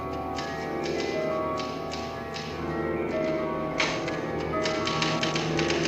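A typewriter clacks away in the 1980 film The Shining, with irregular bursts of sharp key taps and occasional heavier strikes over a faint background hum.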